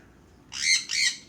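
A large bird gives two harsh, loud squawks in quick succession, close by against a quiet background.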